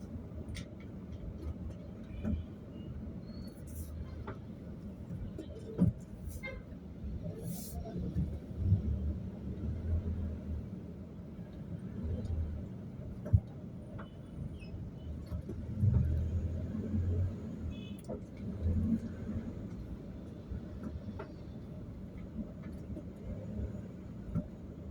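Motor tricycles and other traffic pass along a street in Almansa 1, Las Piñas, a steady low engine rumble with occasional louder passes and faint clicks throughout.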